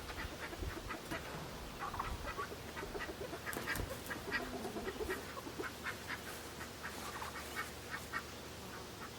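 Ducks quack repeatedly at a farm pasture, a steady irregular chorus of close and mid-distance calls with other fowl, likely turkeys, mixed in, under outdoor ambience and no talk.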